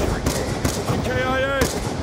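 Rapid machine gun fire from a multiplayer military shooter game, dense continuous bursts filling the whole stretch with a tonal game effect partway through; no voices heard.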